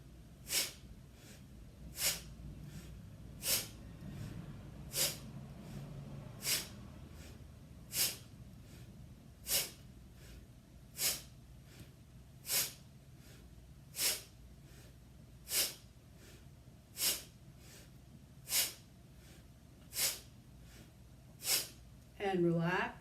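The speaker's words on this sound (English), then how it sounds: "take a breath in and breathe out" Sharp, forceful breaths during a guided breathing exercise, about fifteen short bursts evenly spaced roughly every second and a half, steady and close, over a quiet background.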